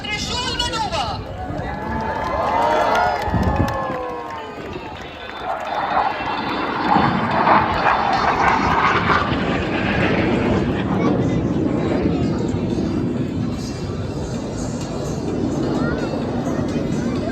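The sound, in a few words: Suryakiran display aircraft flying the Trishul maneuver at airshow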